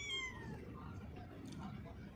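A hungry stray kitten near a factory meows in a few thin, high calls at the start. A person's voice continues faintly afterward.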